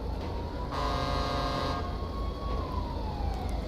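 A wailing ambulance siren in a video game sweeps up and down over steady traffic rumble, fairly loud and continuous throughout.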